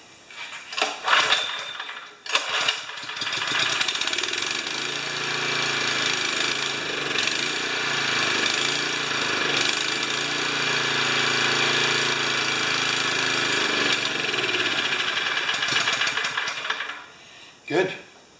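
A vintage Champion pump's gasoline engine runs on three-quarter choke with a loud, steady, close mechanical chugging. It sputters and catches at the start, runs evenly for about fifteen seconds, then dies away near the end.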